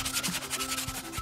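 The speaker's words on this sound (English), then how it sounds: "So I finished it up with some light sanding and I was done." A short burst of light sanding on a wooden door, a soft, even scratchy hiss repeating quickly and close, with no voices.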